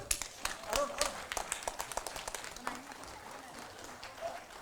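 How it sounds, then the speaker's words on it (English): Scattered, fairly faint clapping from an audience at the 46th Lions Annual District Conference of District 322D, with sharp individual claps popping out over a murmur of voices throughout. "Big round of applause for Thongam Arun."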